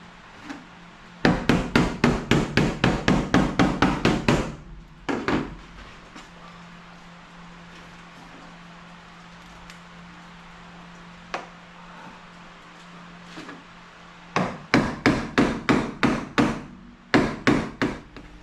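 Rapid, close hammer blows on sheet metal for the hood of a 1969 Pontiac Catalina wagon, struck in two long bursts with a quiet pause between them, then a few final strikes.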